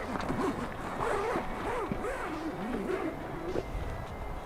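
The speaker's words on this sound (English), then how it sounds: "the awning is sealed up with a heavy duty zipper" A heavy-duty zipper on a car awning cover is pulled open in several rasping strokes of changing speed, close and fairly loud, with faint outdoor background.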